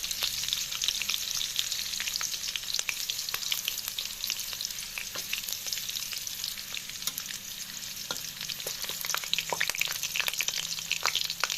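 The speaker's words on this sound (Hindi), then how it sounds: "तेल में मिर्च और तेज़पत्ती जो कि पक रहा है, यानी कि फ्राई हो रहा है।" Chili and bay leaves fry in a hot pan of oil, sizzling and crackling steadily, with scattered sharp pops over a constant hiss; no voices.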